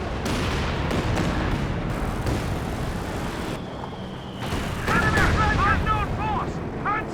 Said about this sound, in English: He's trying to line up a Katyusha barrage